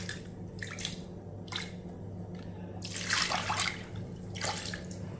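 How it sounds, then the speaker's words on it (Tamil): Soaked water being poured into a cooker pan, a splashing, trickling pour that comes in short bursts and swells louder midway, close and alone without any voices. "நல்லா ஊற வச்ச தண்ணியும் இதிலே ஊற்றிக்கிடுவோம்."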